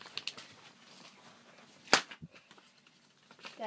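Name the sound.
paper popper snapping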